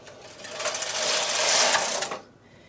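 A knitting machine carriage makes one pass while knitting mock moss (honeycomb) stitch, a close mechanical whirring and clattering that swells over about two seconds and then stops abruptly.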